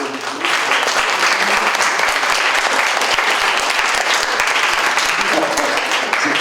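Loud, dense applause from a university audience at a social sciences panel, sustained and steady throughout with no talk over it.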